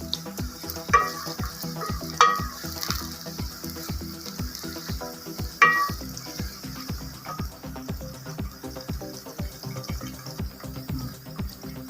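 Onions frying in a pan give a steady close sizzle, with regular stirring scrapes and a few sharp clinks throughout, and no talking.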